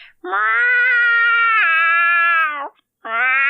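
A person imitates an angry cat with a long, loud, wavering yowl lasting over two seconds, then begins a second one after a short gap.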